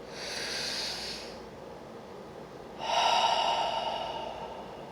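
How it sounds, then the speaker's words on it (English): A slow, deep breath during a guided relaxation exercise: a long airy inhale, a brief pause, then a fuller exhale, close and soft with no talking. "Deep breath."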